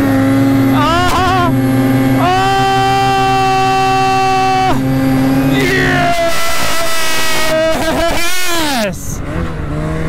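A motorcycle engine revs hard through a wheelie attempt, loud and close, its pitch holding high, then sagging and climbing again, with wind rush in the background.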